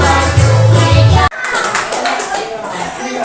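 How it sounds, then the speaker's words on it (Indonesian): A group claps hands during a children's ice-breaking game, dense rhythmic clapping under singing voices that breaks off abruptly, then lighter scattered claps and chatter follow. "Tangan diputar-putar bertepuk tangan."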